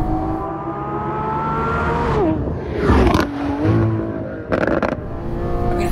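A Lamborghini Aventador Ultimae engine revs loudly and up close, climbing in pitch, dropping off, then blipping several sharp throttle bursts before settling into a rising drone.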